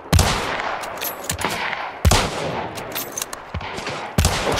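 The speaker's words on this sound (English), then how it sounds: "he's been shooting at us the whole way" Repeated gunshots from the Hunt: Showdown video game ring out in sharp, loud bursts, with several closely spaced cracks and short volleys across a few seconds, heard alone without talk.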